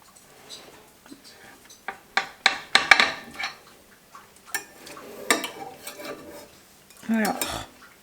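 A knife cuts through a baked dish into six portions, giving a run of scattered clinks and scrapes against the dish and utensils, with sharper knocks midway and a heavier scraping stroke near the end.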